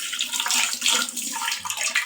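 Water running steadily from a tap for washing the face, a close, continuous hiss and splash lasting a couple of seconds with no voices.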